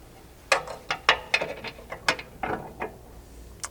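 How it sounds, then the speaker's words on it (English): 1/2-inch flange nuts tightened with a ratchet on a Polaris Ranger Approach rear bumper, reached from underneath: a rapid series of crisp, close ratcheting clicks in irregular bursts, with no speech. "Then just reaching in from underneath, you can install those 1/2" flange nuts."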